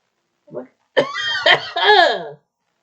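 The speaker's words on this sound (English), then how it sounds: "I got a cough too." A person with a cold lets out a short cough, then a longer run of strained coughing and throaty, laugh-like sputters, close and loud against silence.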